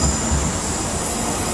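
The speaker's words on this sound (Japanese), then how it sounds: "やたらとね、特急電車が行き交います。" A limited express train on JR Shikoku rushes past nearby at Marugame Station during morning rush hour, with a loud, steady roar and rumbling wheels, no voices.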